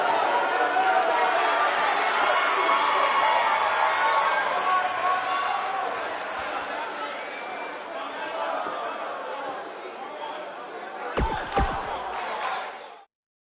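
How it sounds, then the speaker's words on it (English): Arena crowd noise from the WWE 2K19 wrestling video game: a dense, steady roar of cheering and chatter that holds loud for most of the stretch, with a few sharp slam-like hits near the end before it cuts off. "The live crowd loved it."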